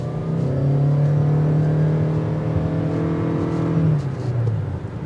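A 2023 Toyota Crown hybrid with three electric motors and all-wheel drive pulls away, a smooth rising whir and engine drone heard from inside the car, steady and fairly loud before easing off near the end.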